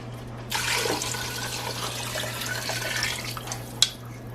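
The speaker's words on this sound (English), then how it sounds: "we're gonna add the water to it" Water is poured into a pot of cooking salami soup, a steady splashing rush lasting about three seconds over a low kitchen hum, ending with a small clink, with no talking.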